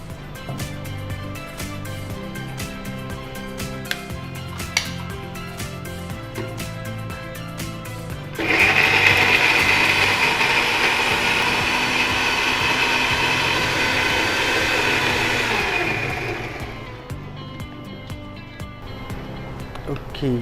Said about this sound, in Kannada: ಮಿಕ್ಸ್ ಆಗಬೇಕಲ್ಲ, ಗ್ರೈಂಡ್ ಮಾಡಿ.